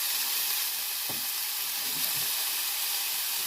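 Steady, loud sizzle of food frying in a hot pan while a sweet potato and chestnut mushroom risotto is being made, a continuous bright hiss with a few faint stirring knocks and no voices.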